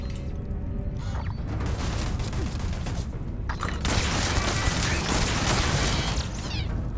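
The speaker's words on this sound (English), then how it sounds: "there's turrets in this weird ass cave just shooting me" Cave turrets in the video game Starfield fire steady, rapid bursts of gunfire with mechanical clatter, growing louder and denser partway through and continuing for several seconds.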